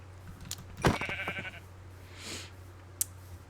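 Sheep in Minecraft 1.19.3 bleat once, fairly loud and close, with a fainter high game sound following alone.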